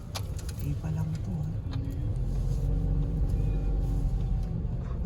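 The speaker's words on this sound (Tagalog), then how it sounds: "Grabe, ang dami na kagad sasakyan." Cars idling and moving through a busy overnight parking lot at NAIA Terminal 3 airport, a steady low engine rumble filling the scene with people talking over it.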